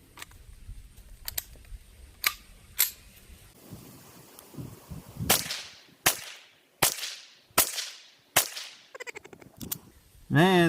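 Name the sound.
22LR gunshots fired from a 10-inch barrel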